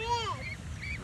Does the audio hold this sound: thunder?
no